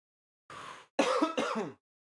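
A brief throat-clearing cough followed by two quick, rough coughs, close and isolated against silence.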